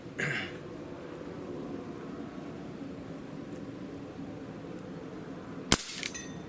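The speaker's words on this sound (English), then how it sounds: "I'm going to shoot 5 shots" A single sharp, loud shot from an Umarex Brodax BB revolver airgun cracks out near the end, after several seconds of steady low background hiss, followed by a fainter click.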